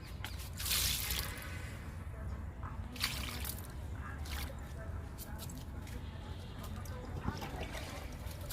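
Liquid fertilizer is poured onto a potted plant with wet splashing, dripping and squishing at close range. A voice talks over it throughout.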